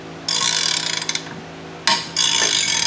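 A ratchet wrench turned on a nut drives a punch through material, quick bursts of sharp clicking with a brief louder pop partway through, close and clear with no talking.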